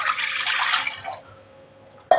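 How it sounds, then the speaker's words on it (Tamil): Water poured from a copper vessel into a pressure cooker sitting on a gas stove, ready for boiling potatoes: a steady splashing pour that tapers off, then a brief sharp knock at the end. "ஃபஸ்ட்டு ஒரு செம்பு தண்ணி ஊற்றிக்கலாம்."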